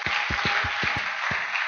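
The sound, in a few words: church congregation applauding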